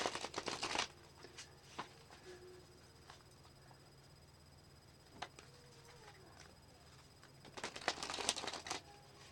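Tarot cards being shuffled up close, with bursts of rapid riffling and flicking at the start and end and quieter card handling and taps in between, no talking.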